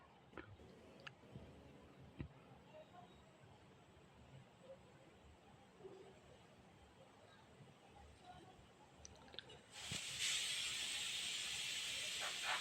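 A pressure cooker with a lid on, cooking field beans for a village-style bassaru, suddenly bursts into a loud, sustained hissing steam release near the end, after quieter kitchen clatter.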